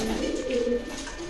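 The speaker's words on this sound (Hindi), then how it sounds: "तो देखो कमरे के कबूतर खुले हुए हैं हमारे" Pigeons kept indoors in a breeding room coo in a low, continuous murmur, a steady soft warble that holds throughout without pause and with no voices.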